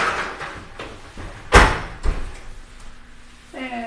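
Oven door shut after a tray of oatmeal raisin cookies goes in, one sharp loud clunk mid-clip with a softer knock after, in a quiet kitchen.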